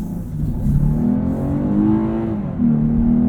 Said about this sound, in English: And this V6 is fantastic. Pretty quick too.